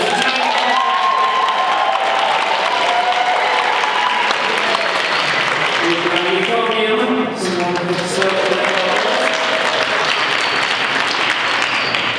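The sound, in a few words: audience applause and cheering at a Tuba Christmas concert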